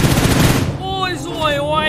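Rapid automatic gunfire from the mobile shooter game PUBG Mobile, a loud dense burst of shots at the start followed by ringing, whistling echoes, with a voice talking over it.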